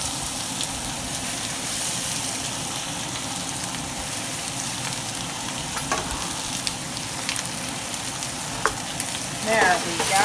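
Onions sizzle steadily in a pan of oil and a dollop of butter, a close, even crackle that holds for the whole stretch, with a few brief clinks and scrapes near the end.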